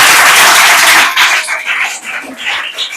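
Children clapping together in a classroom, a loud burst of massed applause that thins into scattered, uneven claps as it fades.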